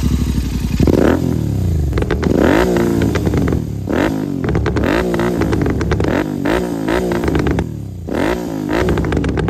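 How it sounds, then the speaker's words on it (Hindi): A Royal Enfield GT650 motorcycle engine revs repeatedly in loud, close bursts, each rise in pitch followed by a drop back to a rough idle. "हाँ let me start the bike."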